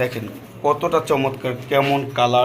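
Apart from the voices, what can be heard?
None of the usual background noises is heard.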